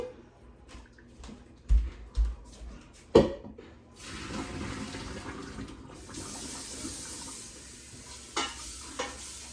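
Hot water poured off cooked watermelon rind into a kitchen sink, starting with a few clunks of the pot and then a steady gushing splash, with a brief rush and clatter near the end.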